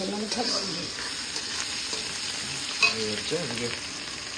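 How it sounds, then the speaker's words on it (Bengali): Onions and chilies fry in a pan with oil for a home curry, a steady close sizzle broken by a few stirring scrapes. "এবার পেঁয়াজ দিয়ে লঙ্কা পঙ্কা ভাজাভাজি চলছে"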